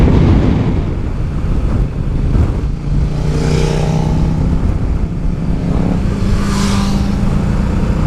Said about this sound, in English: Motorcycle. And let him pass, and let him pass.